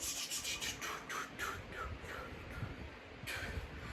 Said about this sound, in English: So we'll spin the wheel here again.